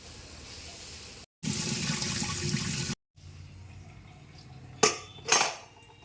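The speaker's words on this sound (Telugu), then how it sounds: "తర్వాత మూడు గ్లాసులు వాటర్ని ట్రాన్స్ఫర్ చేయండి కుక్కర్లోకి" Water pours in two bursts, a loud rushing splash into a pressure cooker, separated by short silences, followed by a couple of sharp metallic clanks of the vessel.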